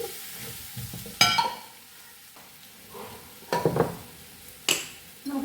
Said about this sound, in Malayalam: വെണ്ടക്കായ ഇട്ട് ഒന്ന് ഇളക്കി